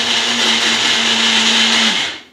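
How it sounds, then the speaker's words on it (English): A Magic Bullet blender whisks eggs in a home kitchen, a loud, steady whirring motor hum that runs continuously and then winds down abruptly at the end. "I mean the magic bullet."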